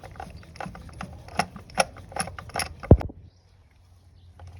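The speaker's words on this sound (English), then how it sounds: "then you remove the spark plug using the preferred socket or required socket" A socket wrench ratchets while loosening a car spark plug for a compression test: close, rapid metallic clicking with a sharp clunk near the end, then quiet.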